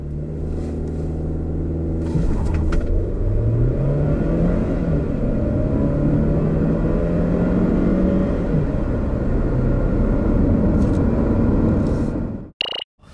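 SsangYong Tivoli 1.5T 4WD, 2019, accelerating hard: a loud, steady engine drone with a rising tone that climbs through the gears, heard from inside the car for about twelve seconds before cutting off abruptly.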